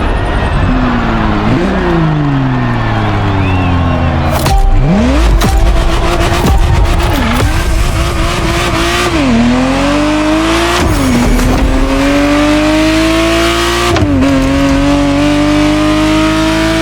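A Ferrari Testarossa engine in the racing game The Crew Motorfest screams loudly and continuously, climbing through repeated rising revs with sharp gear shifts between them and a brief tire squeal along the way.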